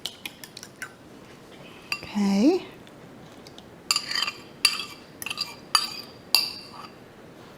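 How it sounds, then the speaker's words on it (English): A metal utensil breaks egg yolks in a dish, giving a series of sharp clinks and taps against the dish that become denser toward the end, with a brief spoken word partway through. "You basically just want to break the yolks when you do this."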